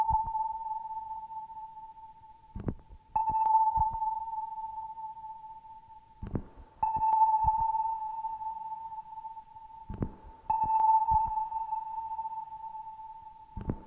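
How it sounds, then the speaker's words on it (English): Sonar pings played from a cassette tape loop repeat about every four seconds, each a steady pure tone that decays with reverb and is broken by clicks and crackle at the splice. "Let's hear that sonar."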